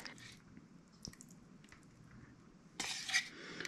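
A spoon stirs pesto into strained pasta in a pan, making quiet, soft squishing and scraping with a few light clinks, then a brighter, louder scrape toward the end.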